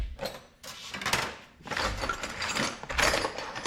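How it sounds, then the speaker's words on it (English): Hands dig through a pile of old metal drill bits in a workshop, a loud close rattle of clinking steel in several bursts separated by brief pauses. "Digging the old pile of bits here."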